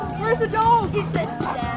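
A dog barks and yips close by at a lake campsite, with short excited calls mixed with people talking over it.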